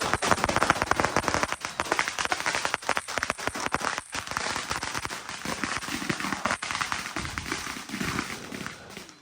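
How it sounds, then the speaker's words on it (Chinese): Firecrackers set off at the start of a temple procession in Xindian, a dense rapid string of sharp cracking bangs rattling continuously for several seconds, loud and close, with no talk. "随着这个炮声响起呢"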